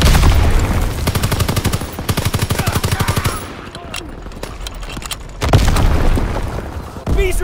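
Video game gunfire hammers in fast, loud machine-gun bursts with booming impacts, pausing briefly mid-clip before heavy blasts resume, all close and dense.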